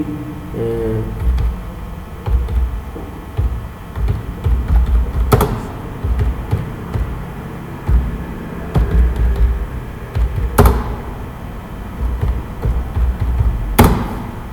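Typing on a computer keyboard: scattered, quiet key clicks and a few sharper taps spread unevenly across a low background murmur.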